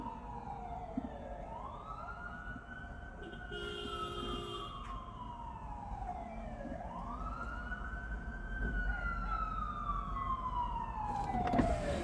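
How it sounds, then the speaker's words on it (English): Wailing emergency siren from a fire ambulance on a Los Angeles street at night, its slow rising and falling cycles repeating at a moderate distance over low traffic rumble, with a brief burst of noise near the end. "I can hear what's probably a fire ambulance on the way."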